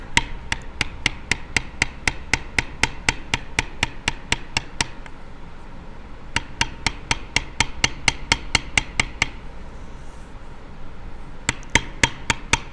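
A mallet strikes a bevel tool on leather in fast, even taps, loud and close, with a pause of about a second and a brief gap near the end.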